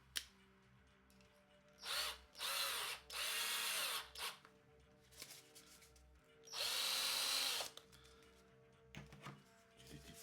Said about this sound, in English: drill a hole first before I do anything else